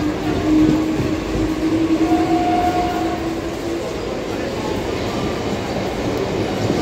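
Steady rumble of a moving train from inside a carriage, with rolling wheel noise and a faint squeal, continuous throughout.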